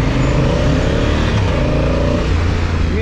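A Honda Africa Twin motorcycle engine rumbles steadily at low revs while riding. The deep, continuous drone is loud and close throughout, with no voices over it.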